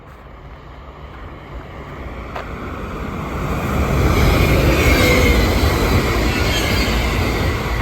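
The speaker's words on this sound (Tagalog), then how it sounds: "tingnan mo, merong ano, super quick train" A fast train passes nearby outdoors on a very cold day, its rumble swelling from a distant approach to a loud, close roar of rolling wheels with faint squeal.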